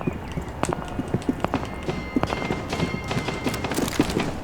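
Footsteps on a floor in Rainbow Six Siege, a quick run of close, sharp, irregular steps moving through the space, with no talking.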